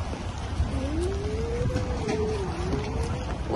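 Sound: heavy rain

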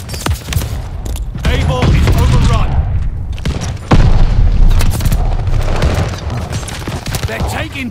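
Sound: mortar fire in video game Call of Duty: Vanguard

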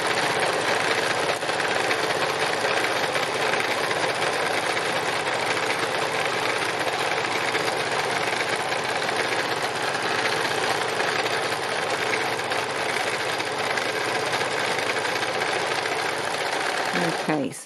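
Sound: sewing machine doing free machine embroidery stitching

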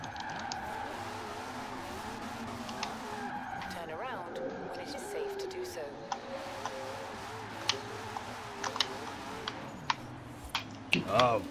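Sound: car drifting and tires skidding in Forza Horizon 4 video game

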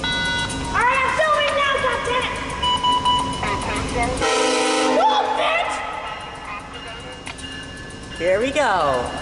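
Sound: VIA Rail passenger train passing with horn

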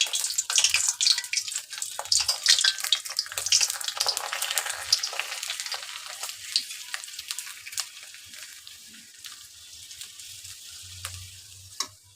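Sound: sago (sabudana) papad frying in hot oil

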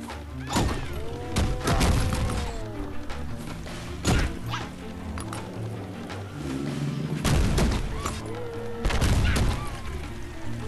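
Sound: gunfire from a donut boss with a gun, Cookies Must Die video game

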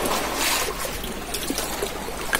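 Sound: sea water and splashing waves

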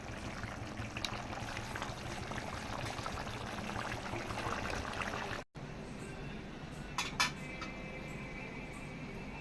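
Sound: curry simmering on the stove

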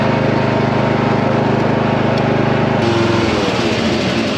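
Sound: riding lawn mower engine running

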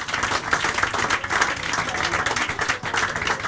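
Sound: audience clapping

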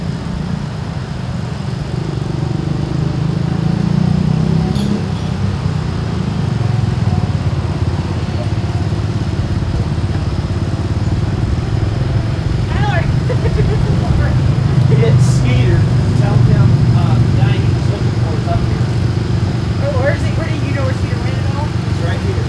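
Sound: 1959 Allis-Chalmers D12 tractor engine in a parade

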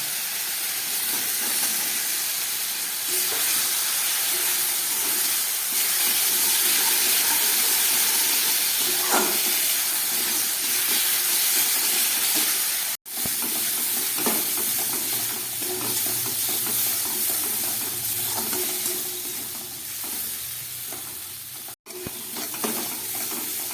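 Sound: fried potatoes sizzling and stirred into masala

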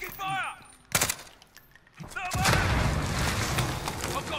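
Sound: gunfire from a video game (Call of Duty)

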